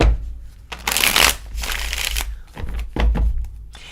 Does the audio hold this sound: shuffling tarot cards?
yes